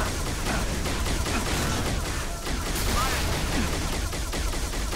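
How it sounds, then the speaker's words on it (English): Turret gunfire in Halo Reach, a dense, continuous stream of rapid shots over loud game noise from start to finish, with a voice talking through it. "Oh, I'm being turreted by another turret."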